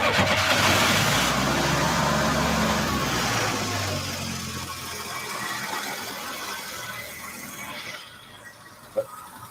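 A 1949 Studebaker Champion engine runs loud and close, revving hard at first and then easing back to a rougher, lower drone, with a single sharp knock near the end.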